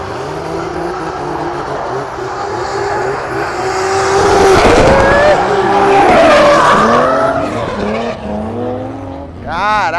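Stock cars in a NASCAR Brasil race at Londrina drift and skid around a banked oval, tires squealing loudly over roaring engines that swell as the cars pass close, with excited voices talking nearby.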